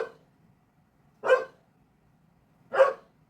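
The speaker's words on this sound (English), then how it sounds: "My dog just started barking." A dog barks three times, single sharp barks spaced about a second and a half apart, fairly close and loud against near silence.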